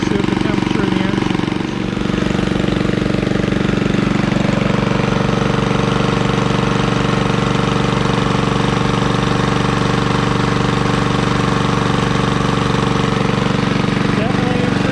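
A 1956 Cooper Cyclo-Mo-18 with its Briggs & Stratton engine runs steadily close by, a loud, even chugging idle that holds throughout with a brief dip near the start.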